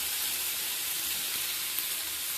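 Ground poppy seed paste hits fried onions in a pan for piyaj posto, giving a loud, dense, even sizzle that holds steady from start to finish with no voices.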